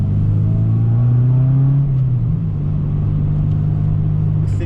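A Honda Civic Type R EP3 with a Toyosports manifold and Spoon back box drones loudly in town driving, its exhaust note rising briefly and then holding a steady, close cruising hum.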